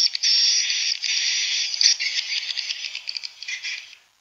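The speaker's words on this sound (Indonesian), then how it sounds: "Jadi suara walet BJA ini di dalamnya mengandung unsur birahi" Played-back recording of BJA swiftlet calls, a continuous high, buzzy rattling chatter with fluttering pulses, loud and unbroken for several seconds before stopping abruptly.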